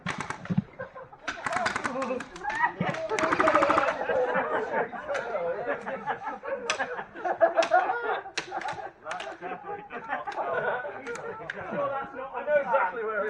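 Airsoft guns firing off their ammo at an outdoor Finmere airsoft game, sharp snapping shots in rapid bursts mixed with people talking nearby and chatter over the top.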